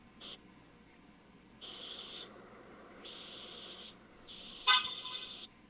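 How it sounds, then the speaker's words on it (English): Outside, a car horn honks in bursts: one short toot, then a long sustained blast, then two more short honks, fairly faint and distant, with no talk over them. "Somebody's honking?"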